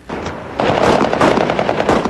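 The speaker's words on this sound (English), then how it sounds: "there was a little show of gunfire by his men to greet him" Rapid bursts of automatic gunfire rattle loudly and continuously, with quick repeated shots close by.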